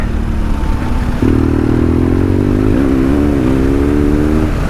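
Custom BMW 1200 GSA adventure motorcycle riding at speed, its engine droning steadily and close, with pitch rising and holding as it pulls along, loud throughout and no talk.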